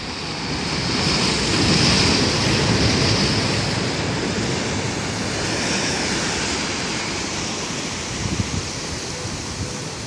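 Steady roar of Pacific Ocean surf, broad continuous wash of breaking waves with a slight swell in loudness early on, close and loud with no talking.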